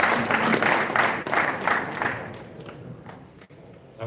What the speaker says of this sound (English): Ladies and gentlemen, big round of applause for Chaz Witherspoon.